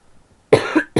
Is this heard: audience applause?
no